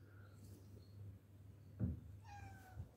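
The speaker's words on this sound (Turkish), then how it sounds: "Kedi." A cat gives a soft meow, faint against quiet room hum, with a few higher chirpy tones nearby.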